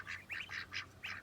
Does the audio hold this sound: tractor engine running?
no